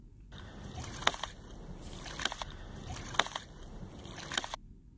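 Water splashing and sloshing through a homemade hydraulic ram pump built from repurposed old items, with a steady wash broken by periodic surges and splashy bursts roughly every second, fairly close and continuous.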